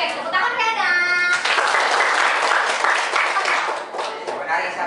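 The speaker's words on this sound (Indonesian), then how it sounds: "Oke, tepuk tangan kanan" Classroom of students clapping hands together on a teacher's cue, a dense burst of clapping mixed with children's voices and chatter, loud and close throughout.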